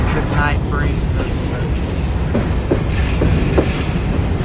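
Indiana Railroad Geep locomotives haul a long freight train of grain cars at night, a steady loud rumble of rolling wagons with faint clicking and squeals throughout, close by.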